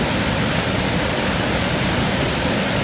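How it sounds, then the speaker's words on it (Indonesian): Curug Kembar waterfall roars as a steady, loud, dense rush of falling water that fills the whole stretch without a break and with no voices. "saya menikmati air terjun dulu"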